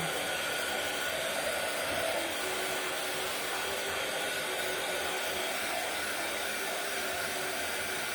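Hair dryer blowing steadily while drying a stained or painted wooden Christmas church craft piece, a constant even whooshing hum throughout, moderately loud and alone.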